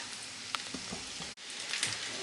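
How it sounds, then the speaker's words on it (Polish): Egg and pearl barley patties fry in a pan until golden brown on both sides, giving a soft, steady sizzle with occasional small crackles and pops. "Smażymy na złoto, brązowy kolor z jednej i z drugiej strony."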